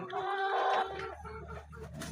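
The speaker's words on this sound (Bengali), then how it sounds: "আমরা ভিডিওতে নিয়ে এসেছি অরিজিনাল কলম্বিয়ান বাহামা মুরগি" A few Bahama chickens clucking close by, a drawn-out call at first followed by shorter clucks, with no talking.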